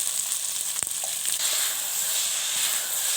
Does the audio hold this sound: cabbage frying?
yes